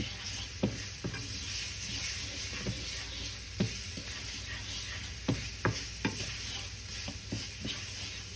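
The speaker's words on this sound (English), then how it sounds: "I'm gonna go in with some chopped up onions and get them caramelized and going" Chopped onions sizzle steadily in a pan as they caramelize, with a dozen or so sharp scrapes and taps of a utensil stirring them at irregular intervals, close by and without talk.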